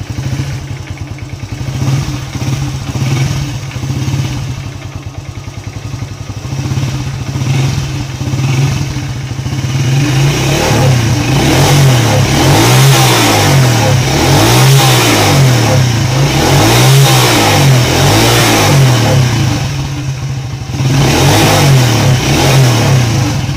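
A Honda EX5 motorcycle engine starts and idles, then revs repeatedly in rising and falling surges. It is loud and close, with mechanical clatter throughout and no talk.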